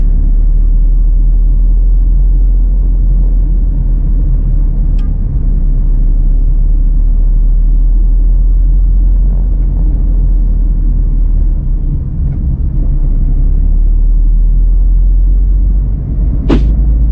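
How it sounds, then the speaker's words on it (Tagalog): City traffic on a hot Sunday in Cagayan de Oro, heard from inside a car, is a loud, steady low engine rumble with road noise and a couple of faint short clicks. "Traffic gyapon bisag Sunday."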